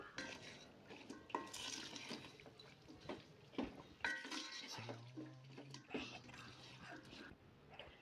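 Chicken and vegetable biryani masala stirred in a pot, with a spoon scraping and clinking against the metal in irregular strokes alongside wet, sloppy sounds and some background noise.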